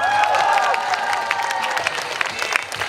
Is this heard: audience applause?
yes